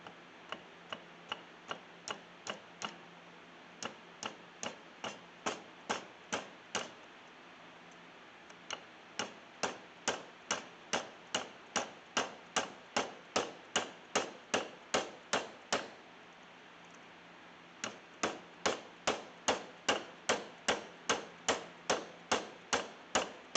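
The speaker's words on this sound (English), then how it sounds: "I'm using the tried and true razor blade method in Dad's old vise in order to cut through these pins" Steady, evenly spaced sharp taps, about two per second and fairly close, with brief pauses, as a razor blade is worked through the pins of a Case Copperhead 6249 pocketknife clamped in an old vise. No one speaks.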